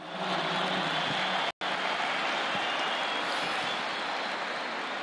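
Audience applause for football coach Fabián Bustos at a club presentation: dense, steady clapping from a large crowd filling the whole stretch, broken by one brief dropout, with no talk over it.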